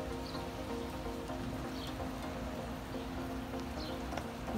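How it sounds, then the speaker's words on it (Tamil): Steady rain falls on a morning in a home garden with flowering plants, a continuous soft hiss with scattered drops and a low hum underneath, no one speaking. "இன்னைக்கு நல்ல மழை நேரம்,"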